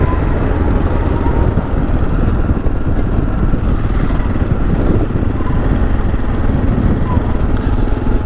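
Big motorcycles rumble past on an open road, a steady loud engine roar mixed with wind buffeting, close by throughout with faint voice underneath.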